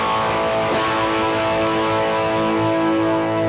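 Rhythm guitar played through a main drive pedal gives a compressed, heavily saturated, chewy distorted tone, sustained chords ringing steadily with a brief pick scrape near the start.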